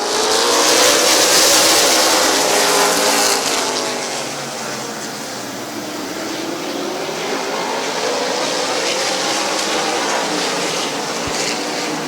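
Super late model race cars roar loudly around the Midvale Speedway oval on a green-flag restart, a dense, continuous wall of engine noise that swells and fades slightly as the pack passes, with a faint announcer voice underneath.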